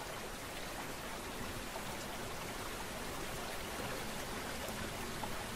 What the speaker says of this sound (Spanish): En el valle aparece un primer instrumento, el río.